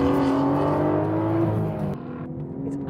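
Aston Martin engine working through a chicane, a loud sustained tone with rising pitch that drops sharply at a gear change, then settles into a lower drone.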